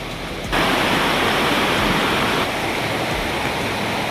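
Hebbe Falls roars as a broad, steady rush of falling water, suddenly loud after a brief quieter opening and then continuous and close, with no one talking.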